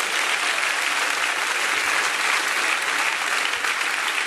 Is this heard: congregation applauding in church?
yes